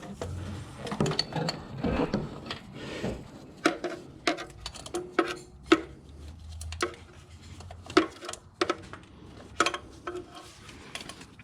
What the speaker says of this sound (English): I'm going to use my open end wrenches here and my ratchet wrenches